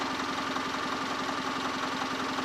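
A 2014 Cadillac ATS engine idles at a steady, even rumble with a faint rhythmic knock, running continuously at close range.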